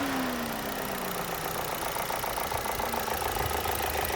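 A 2009 Opel Astra H 1.8 petrol engine idles steadily and evenly, a constant mechanical hum with a faint ticking rhythm and no extra vibration, heard up close with no talking.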